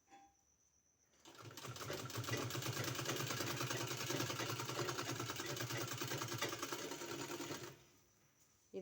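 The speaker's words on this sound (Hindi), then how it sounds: "इस तरह से इसमें सिलाई लगा देना है।" A sewing machine runs continuously for about six seconds, stitching piping onto a designed kurti sleeve, with a close, loud, even mechanical whir and rapid needle ticking that starts and stops abruptly.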